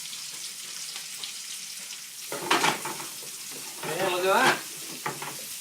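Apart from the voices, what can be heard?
chorizo, peppers and garlic frying in a paella pan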